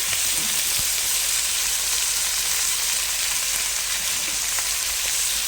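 Drumstick pieces fry in a pan with onions, chillies, curry leaves and paste, giving a loud, continuous close sizzle with fine crackles and no voices.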